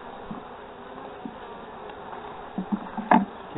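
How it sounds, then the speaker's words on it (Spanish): Honeybees buzzing around an opened beehive as a frame is lifted out, a steady dense hum close by, with a few brief knocks and handling sounds near the end and no talk. "Esta es la casa de las abejitas, su panal y donde están trabajando."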